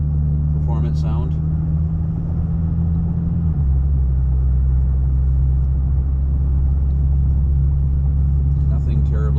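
A 2022 Ford Maverick MRT with a dual tip exhaust under moderate acceleration gives a steady, deep low drone that drops in pitch partway through, with a voice talking over it.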